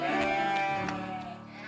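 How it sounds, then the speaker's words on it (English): A single drawn-out animal bleat, fairly faint, sustained and wavering before fading. "David, you stay there and look after the sheep."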